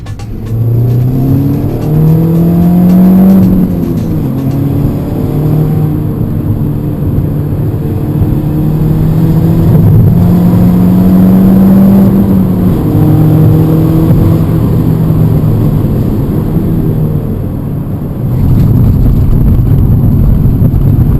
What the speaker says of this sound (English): The Mini is stable, yet agile at highway speeds, and doesn't feel like you're driving such a small car.